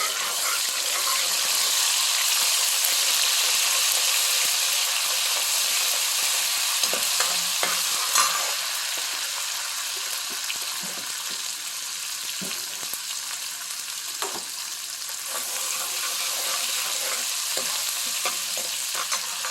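Garlic and ginger-garlic paste frying in a pan for an egg gravy, producing a steady hiss of sizzling oil with intermittent scraping stirs, close and continuous over about twenty seconds.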